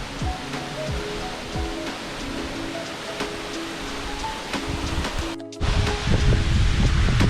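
A waterfall at Saltão fills the air with a steady, loud rushing roar, like heavy rain on water, which briefly cuts out and then returns even stronger.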